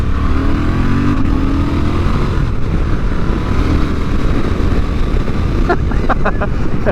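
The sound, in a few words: Honda Transalp XL750 motorcycle riding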